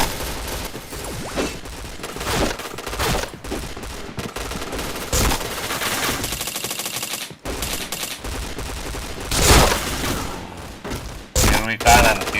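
Rapid automatic gunfire in the shooter game Point Blank, with dense bursts and single shots packed together over a continuous stretch while a player talks over the action.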